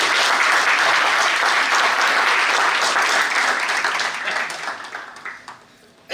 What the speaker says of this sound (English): So let us first give her a big round of applause.